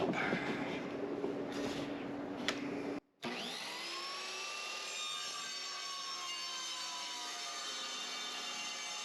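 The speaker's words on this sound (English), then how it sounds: "now I'm going to go ahead and cut the bat up" Wooden Astros baseball bat, game-used MLB, cut into slices with a power saw: a rough grinding rasp that breaks off briefly, then a steady ringing whine as the blade spins and runs on.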